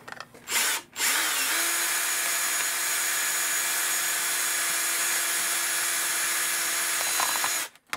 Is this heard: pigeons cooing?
no